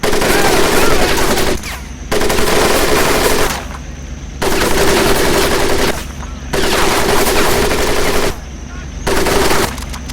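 Loud, close machine gun fire from the video game Medal of Honor: Pacific Assault rattles in long sustained bursts, four or five in a row separated by brief gaps, dominating the soundscape.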